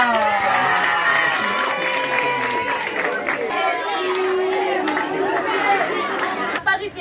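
A school audience of students cheers and shouts for a girl called up to speak at a classroom debate on gender parity, a dense, lively crowd roar full of overlapping voices that holds steady throughout.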